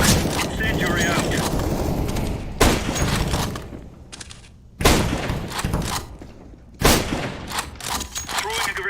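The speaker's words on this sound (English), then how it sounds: "Deploying flashbang. Deploying decoy. Throwing smoke. Incendiary out." Flashbang, decoy, smoke and incendiary grenades go off in a video game as a string of loud bursts and thumps with sharp onsets, mixed with game voices calling out.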